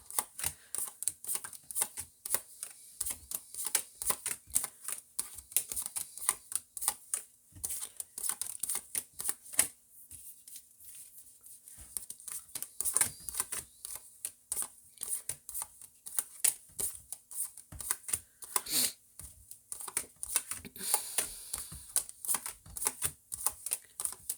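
Tarot cards being shuffled over and over, a steady run of crisp riffling and flicking that stays close and fairly quiet, with brief pauses.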